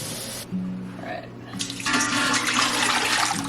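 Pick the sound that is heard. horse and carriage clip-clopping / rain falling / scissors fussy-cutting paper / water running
water running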